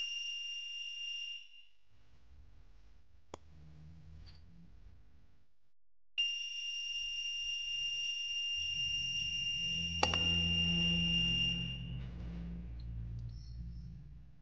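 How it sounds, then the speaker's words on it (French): A shrill electronic buzzer on an ESP32-controlled RFID access system sounds an alert twice: a brief tone, then after a pause a longer steady one lasting several seconds, with faint rumbling underneath. "le buzzer émet un son d'alerte"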